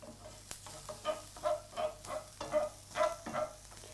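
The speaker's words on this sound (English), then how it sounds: "I have 2 white onions. I've chopped these finely, just diced them. In they go. We're going to fry these until they go translucent." Finely diced white onions fry in a pan while being stirred, giving a low steady sizzle with repeated scraping strokes at a slow, even rhythm, close and fairly quiet.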